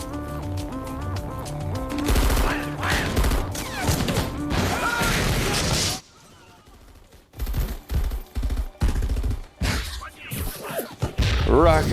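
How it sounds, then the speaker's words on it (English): Explosive weapons fire from an action scene in the film Madras Cafe, with a rocket launcher shot, loud dense bursts and blasts layered over a musical score, then a brief quiet gap followed by sharp intermittent impacts. "Rocket launcher at the camera."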